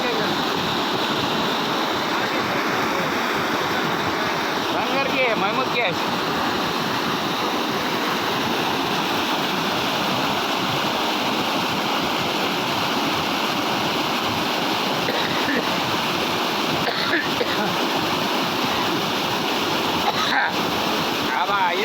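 Loud, steady rush of water roaring continuously throughout as a breached percolation pond bursts, a broad churning wash like a torrent pouring out, with wind buffeting the microphone, in Gevrai Mard, Paithan taluka.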